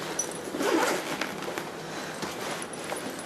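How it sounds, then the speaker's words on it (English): A zipper is drawn along the end of a fabric garment-bag suitcase, a close, continuous scratchy rasp lasting a few seconds with a slightly louder burst near the start. "if you unzip the sides, or the ends, I should say,"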